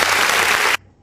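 Studio audience applause on a talk show, a dense steady clapping that stops abruptly partway through, leaving near silence.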